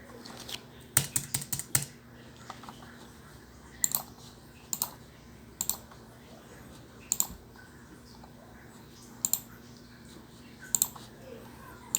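Someone types on a computer keyboard during a Cisco router networking lab, with short bursts of crisp, close key clicks separated by pauses over a faint steady hum.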